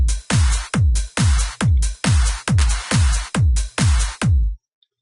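Trance beat built in FL Studio: punchy kick drums thump about every half second, each with a bright clap and noisy layers on top, about ten hits before it stops.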